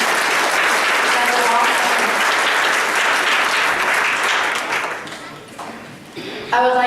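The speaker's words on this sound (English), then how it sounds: "Can we also give these teachers a big round of applause and a thank you for all their work?" A congregation applauds teachers at a coming of age service, with steady, loud clapping that fills the space and fades toward the end before a brief swell.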